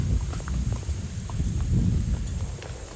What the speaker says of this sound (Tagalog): bawal pagsabayin yung kabayo dahil nga masyadong naging aggressive siya